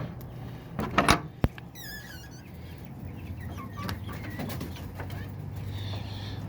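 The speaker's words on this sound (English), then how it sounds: "Here's just the chickens." About twenty chickens in a farm coop, clucking and cooing at close range with a brief louder flurry early on, then steady low murmuring over faint background hum.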